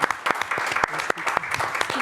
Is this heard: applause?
yes